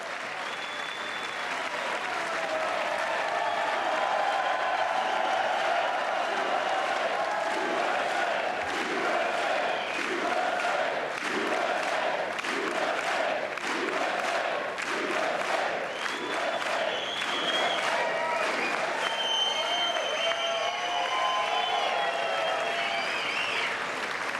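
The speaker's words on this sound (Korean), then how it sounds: "여러분 계속해서 박수 쳐주시기 바랍니다." Sustained, loud applause fills a large chamber during a US presidential State of the Union address, a dense roar of many hands clapping with crowd noise and occasional shouts rising within it, continuous for over twenty seconds.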